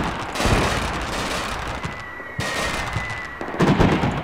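Gunfire crackles in Combat Mission Shock Force during urban combat in Al Amarah, with several sharp shots and bursts at moderate distance over a steady noisy background.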